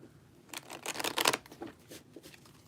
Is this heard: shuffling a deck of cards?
yes